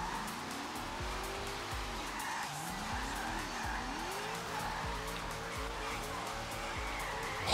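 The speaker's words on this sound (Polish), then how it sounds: "no i właśnie ten moment przesterowania" A Mazda RX7 Hoonigan drift car in Forza Horizon 3 slides into oversteer, its tires squealing in long, wavering screeches over a steady, loud engine roar that runs unbroken from start to finish.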